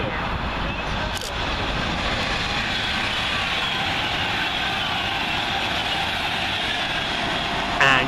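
A train runs through Milton Keynes Central station without stopping, a steady loud rushing rumble sustained for several seconds, with a brief sharp clank near the start and a louder burst at the end.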